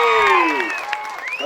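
A crowd at an outdoor stone-lifting strongman contest claps and cheers, a steady wash of applause with raised voices and shouts riding over it throughout.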